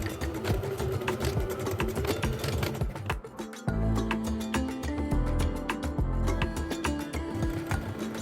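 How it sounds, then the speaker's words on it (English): A sewing machine running a short reinforcing stitch at the lower end of a pants pocket opening, with steady rapid needle chatter and a motor hum that continues throughout, under background music. "Sew a short reinforcing stitch at the lower end of each pocket opening."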